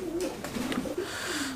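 A running pair of Jharna satin fancy pigeons coos on a loft farm, with soft, rolling low coos repeated several times at close range and no talk over them.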